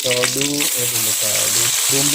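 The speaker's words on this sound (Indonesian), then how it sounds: "di sini kita tumis tentunya bahan bumbunya matang ya" Blended spice paste for an oncom curry with coconut milk sizzles steadily in a pan as it is sautéed, a continuous frying hiss under a person speaking.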